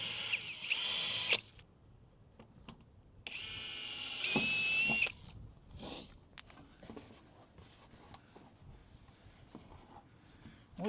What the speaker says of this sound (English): drill and do the rest of these holes